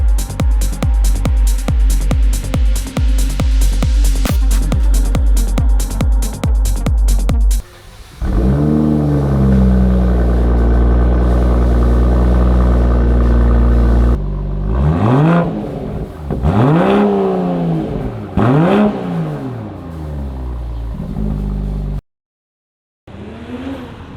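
A 2023 BMW M340i fitted with an AWE exhaust system is revved hard, first in a rapid string of sharp bursts, then settling into a deep idle before several rising and falling revs, loud and close, ending with a brief silence.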